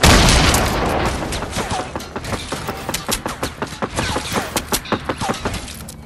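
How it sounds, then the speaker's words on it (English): Repeated grenade launcher blasts in a video game hide-and-seek match, a dense string of sharp booms and cracks that speeds into a rapid, evenly spaced volley toward the end. "I'm just going to spam the nade launchers"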